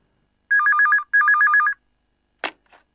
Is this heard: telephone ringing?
yes